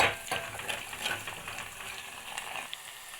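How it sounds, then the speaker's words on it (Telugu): Curry leaves crackle and sizzle in hot oil for a tamarind rasam tempering, a close, continuous frying hiss with a few sharper pops and stirring scrapes. "తాలింపు అయితే బాగా వేగిపోతుంది చూడండి బాగా వేగింది"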